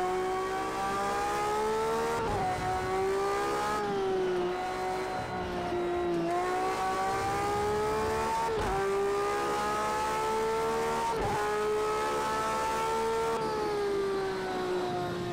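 A V12 race car in Project Cars 2 howls through a hot lap, its loud engine note climbing steadily through each gear then dropping sharply on upshifts, repeated several times.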